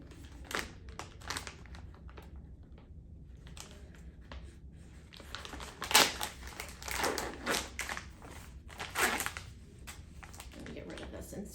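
Plastic TPN infusion supply package being opened at home, giving several soft crinkling and tearing bursts at close range, with quiet background hum between them.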